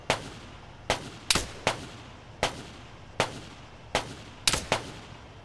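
Sharp, loud gunshots from the military shooter game Arma 3 ring out one after another at irregular intervals, some in quick pairs, with no talking.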